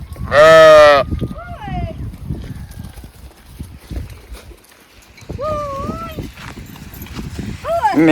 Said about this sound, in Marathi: मेंढरं पाण्यावर आलेली आहेत.